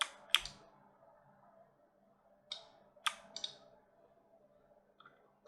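Computer mouse clicks, sharp and close, scattered singly and in pairs over a few seconds with quiet gaps between them.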